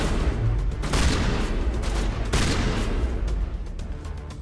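Shotgun blasts in the video game Mass Effect, two heavy booming shots about a second apart amid continuous battle noise and rumble, loud and close.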